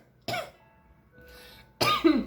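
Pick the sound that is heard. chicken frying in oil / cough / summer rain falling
cough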